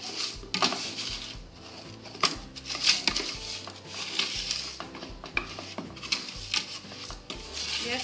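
A metal spoon scrapes and spreads sugar melting and burning in a hot baking pan, giving continuous rough rubbing and grating strokes with small clinks, close and moderately loud, with no one talking.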